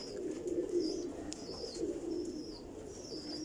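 Pigeon cooing from a Teddy Rampuri pigeon, a soft low continuous coo repeating through the clip, with faint higher chirps above it and no talking.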